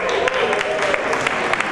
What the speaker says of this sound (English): Number 7, do I get a cheer?